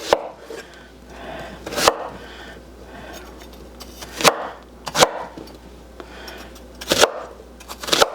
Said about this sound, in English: I'm just going to rough chop this onion.